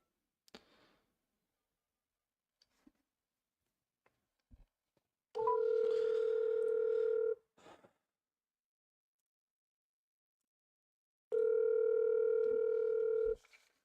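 A phone call being placed: faint clicks, then a loud steady ringing tone sounds twice in long separate bursts, with silence between, before the call would go to voicemail.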